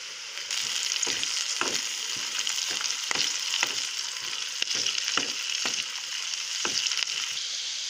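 Ingredients for a bottle gourd chutney fry in a pan with a steady crackling sizzle, punctuated by sharper pops and spatters at irregular intervals, close and fairly loud with no talking.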